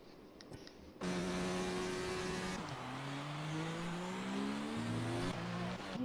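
A racing car on its out lap roars steadily close by, engine pitch rising and falling through gear changes and throttle shifts, loud and continuous with no voices.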